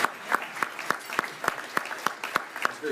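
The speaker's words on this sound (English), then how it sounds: "very cheap applause" A small luncheon audience at a lawyers' chapter event gives sparse, slow applause, a few distinct hand claps spaced evenly at a moderate, slightly distant level.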